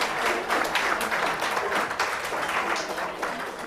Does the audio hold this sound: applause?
yes